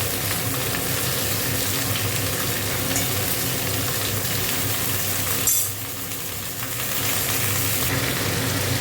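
Okra and green chili frying in a pan, a steady loud hiss and crackle of sizzling oil throughout, briefly dipping for a moment before the sizzle returns at full strength, with no talking.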